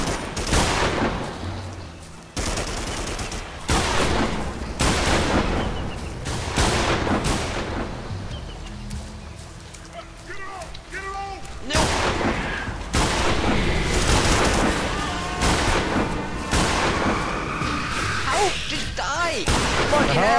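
Gunfire in the dinosaur shooter video game Primal Carnage, repeated heavy bursts of shots in clusters, loud and near, separated by brief lulls with game noise between volleys.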